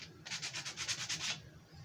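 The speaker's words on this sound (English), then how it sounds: "A little sanding is going to do a little good." Sandpaper rubs a carved sassafras wood French bulldog in about eight quick, even strokes, a soft close scratching that stops after a second and a half, leaving quiet room noise.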